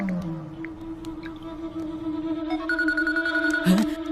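An incoming call sets a mobile phone ringing, a steady electronic ringtone that starts partway through and holds a bright sustained pitch over a quiet room background.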